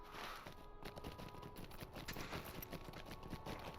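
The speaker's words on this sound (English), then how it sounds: "Just trampling all over them with my horse." Horse hooves trampling over the ground in the Lord of the Rings Online video game, a steady run of soft clip-clop footfalls under a constant game ambience.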